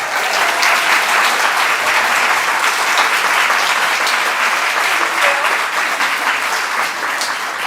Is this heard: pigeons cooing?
no